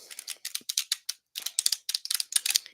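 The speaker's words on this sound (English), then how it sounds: "Shuffling this deck up" Rapid bursts of crisp papery riffling as a deck of cards is shuffled, several quick flurries in a row with brief pauses between, close and fairly quiet.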